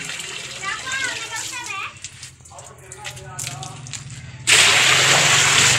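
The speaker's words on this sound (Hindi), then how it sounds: "मशीन में पानी डाल रही हूँ" Water gushes into a washing machine from a large basin, a loud, steady splashing pour that starts suddenly after a stretch of talking voices and children, and runs to the end.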